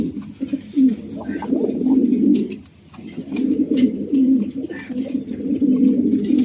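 Pigeons being paired, including a silver male, coo loudly and close by in repeated rolling bursts with a brief pause in the middle.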